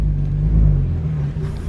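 A BMW E46 325i drift car revs with a deep, steady rumble close to the microphone, swelling briefly before settling again, with no voices present.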